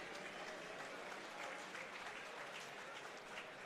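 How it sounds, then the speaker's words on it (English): A crowd applauds both fighters at a professional boxing event at the Hilton in downtown Tampa, the clapping even and sustained but fairly faint and distant. "let's have a nice round of applause for both fighters"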